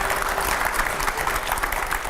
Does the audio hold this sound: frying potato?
no